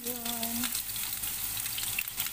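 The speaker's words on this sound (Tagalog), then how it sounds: "Frying onion." Onion frying in a pan alongside cooked vegetables and chicken, a steady bright sizzle with crackle throughout, a brief voice-like tone at the start.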